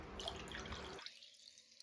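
Water pours into a high-tank toilet cistern with a steady splashing rush that cuts off abruptly about halfway, leaving faint trickles and drips afterward.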